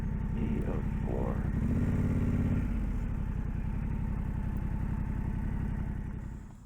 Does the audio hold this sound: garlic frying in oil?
no